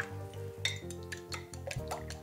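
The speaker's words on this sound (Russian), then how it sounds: "Сейчас возьмем отдельную миску, взобьем яйца." Eggs are whisked in a separate bowl for zucchini fritters, giving rapid, rhythmic clinks and taps of a utensil against the bowl over a steady low hum.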